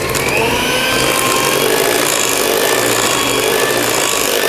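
Electric hand mixer beating marble cake batter at high speed, a loud, steady, close whir with a constant motor whine and no pauses.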